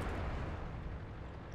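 A distant artillery shell splash explosion in the World of Tanks video game, a dull, sustained low rumble that stays at a steady level without a sharp attack.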